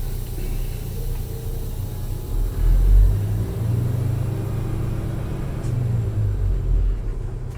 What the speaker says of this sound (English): The truck stopped smoothly.